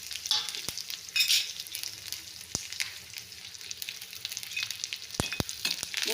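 Onion, green chili and curry leaves crackle in hot oil for a tempering poured over a jackfruit seed curry, a steady close sizzle with a few sharp spatula clicks and stirs and no talking.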